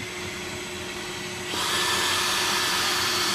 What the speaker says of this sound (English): I just want to be able to show you what you can actually do with just a vacuum and a drill brush.